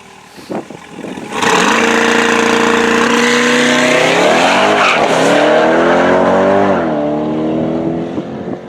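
A C8 Corvette launches hard down a quarter-mile drag strip, its engine roaring loud and close as it climbs through the revs, dips sharply at the gear shift and pulls on again. A faint tire squeal runs under it, and no one speaks.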